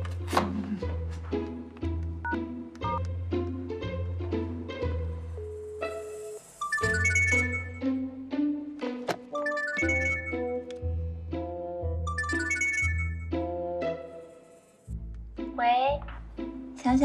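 A ringing tone plays on a phone while a call is placed, as a repeating melodic ringtone pattern of bright notes, fairly close and steady, with voices speaking around it.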